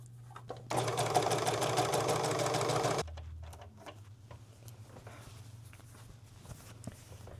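A serger overlocks fabric scraps in a fast, loud mechanical whir lasting about two seconds, then stops, leaving quiet handling noises and light clicks nearby.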